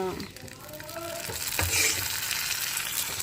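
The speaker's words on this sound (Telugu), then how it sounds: "బాగా అయితే వేగిపోయింది కదా పోపు కూడా మాడతా గ్యాస్ స్టవ్ ఆఫ్ చేసుకొని చట్నీలో పోసేస్తామంట" Hot oil tempering for peanut chutney sizzles loudly and steadily throughout, with a brief clink and a faint voice early on; a close, continuous frying hiss.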